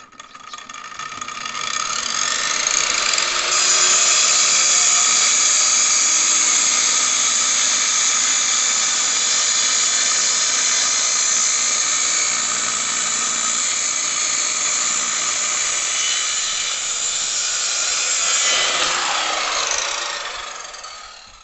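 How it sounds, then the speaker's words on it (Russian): A wooden beam is cut into six equal one-metre pieces with a power saw during outdoor construction of a rural privy. It runs as one loud, continuous whine for about twenty seconds, winding down at the end, with no talking. "Разрезаем наш брус на 6 равных частей по 1 метру."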